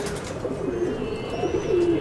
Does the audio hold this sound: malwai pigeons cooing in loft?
yes